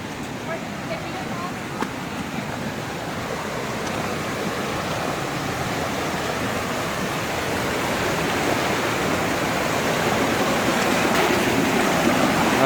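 Flash flood water rushing through Red Rock Canyon on the Ice Box Trail, a steady broadband roar of turbulent flow that holds loud and constant throughout and swells slightly toward the end.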